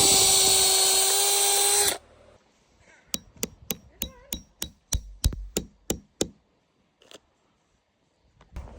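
Power drill boring tap holes into maple trees, a loud whining burst of about two seconds, then a run of about ten sharp hammering knocks that fade into quiet outdoors.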